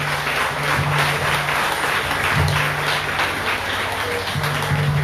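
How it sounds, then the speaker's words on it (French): A final round of applause at a family celebration in Le Robert, a continuous wash of many hands clapping with a low hum running underneath. "Un dernier applaudissement"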